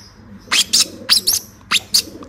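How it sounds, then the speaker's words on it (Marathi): A tiny, very young bird that still has its eyes shut gives several short, high, thin chirps in quick pairs, close and clear against a quiet background. "हे बघा किती छोटा पक्षी आहे"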